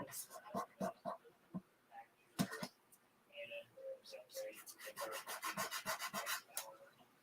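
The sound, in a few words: burnishing a Chalk Couture transfer onto a journal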